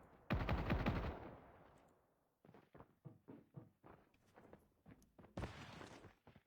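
Shots in a shooting video game during a sniper fight: a long loud blast of gunfire up front, a pause, then a quicker string of sharp single shots and thuds, ending with another heavy burst.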